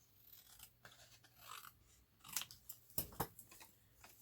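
Scissors trimming paper for a handmade Christmas journal label, giving a few quiet, crisp snips and crunches spread across the moment, close by and soft, with no talk.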